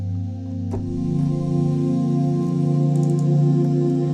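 A thick, sustained "moving ooze" synth pad patch swelling slowly, a dense warm chord that churns and shifts in texture, with a faint click near the start.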